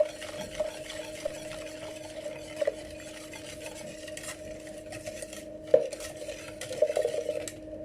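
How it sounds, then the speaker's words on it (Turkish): A spoon stirs a litre of milk with sugar for silky muhallebi pudding, scraping steadily around a pot with occasional louder knocks against the side, close and continuous with no voices. "Ve 1 litre sütümüzü de boşaltıp güzelce karıştırıyoruz."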